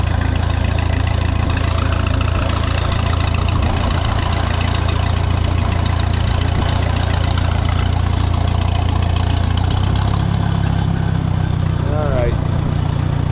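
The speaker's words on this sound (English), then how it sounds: "I don't love the muffler on this one though. It's a Stanley and it's loud." Minneapolis Moline tractor engine fitted with a loud Stanley muffler, used for sickle bar mowing: a heavy, steady low rumble with a knocking edge runs continuously and close up, the pitch shifting slightly near the end.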